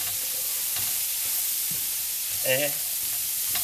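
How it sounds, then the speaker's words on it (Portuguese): Annatto powder (colorau) frying in a pan for sarapatel, a steady close sizzle throughout with a few stirring scrapes and a short spoken syllable near the end. "E vamos fritar esse colorau também."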